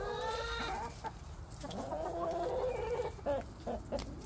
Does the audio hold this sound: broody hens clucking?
yes